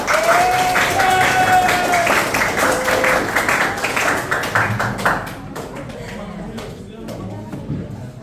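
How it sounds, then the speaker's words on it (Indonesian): Students and teachers in a classroom greet the first presenting group with a burst of clapping that fades away over several seconds, with voices and cheers mixed in. "mari kita sambut dengan gemuruh tepuk tangan yang meriah"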